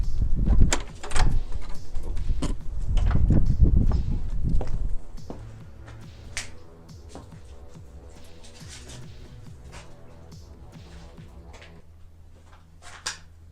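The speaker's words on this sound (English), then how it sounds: "We can open every door." Stall doors in an old stable are opened, giving heavy wooden knocks, scrapes and footstep thuds, loud and busy at first, then thinning to scattered faint clunks.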